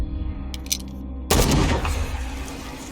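A single sharp, loud gunshot from Call of Cthulhu, close and sudden, with a rumbling decay after a quiet stretch of low ambient tones.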